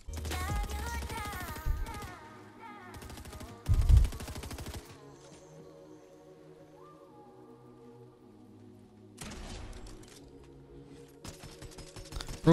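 Gunfire in Fortnite, with rapid automatic bursts in loud clusters at the start and near the end, separated by a quieter stretch of game sounds.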